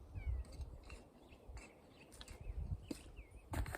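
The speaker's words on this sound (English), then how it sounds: "Come here, kitty." A pet cat meows a few times in a backyard garden, faint and intermittent over quiet outdoor background noise.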